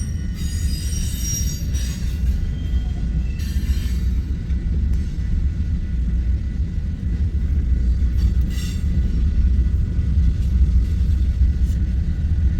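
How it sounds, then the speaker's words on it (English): A long freight train with a mid-train DPU locomotive rolls steadily past, a loud continuous rumble of wheels and cars with occasional high wheel squeal, no talk over it. "Here comes our mid-train DPU."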